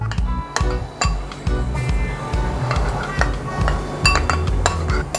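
A utensil clinks and knocks rhythmically against a metal cooking pot while something is stirred, giving repeated close metallic taps over a low steady background.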